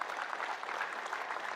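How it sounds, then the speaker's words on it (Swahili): Audience applause at a political gathering in Kenya, a steady wash of clapping from a crowd filling the short moment without a break. "Kwa hivyo nataka kuintroduce Esther Pasari, mpigieni makofi."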